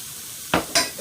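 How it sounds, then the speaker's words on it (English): Pineapple upside down cake mix is stirred into batter with two quick scraping strokes of a utensil against the bowl, close and distinct in a quiet kitchen. "I've got the pineapple upside down cake mix. So I'm adding it for my batter."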